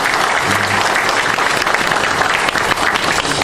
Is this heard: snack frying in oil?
no